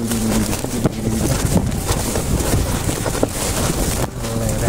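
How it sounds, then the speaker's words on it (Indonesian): A strong, steady wind roars and buffets the microphone at a mountain campsite on the B29 peak in Lumajang during a windstorm, a dense continuous rush with no letup. "ini anginnya kencang sekali"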